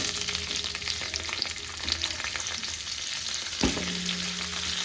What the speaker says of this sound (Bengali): এইবার এর মধ্যে কাটা সবজিগুলো দিয়ে ভালো করে ভাজবো।